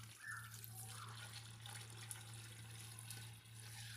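A jug of water being poured into a cooking pot for mutton kabsa, a steady close splashing stream with a low hum underneath, with no talking.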